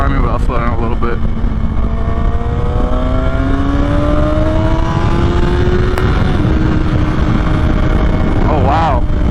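A 2023 Kawasaki ZX-6R 636 engine revs up loudly and climbs through quick-shifter upshifts on a road ride, with the pitch rising in steps over strong wind rush close to the rider.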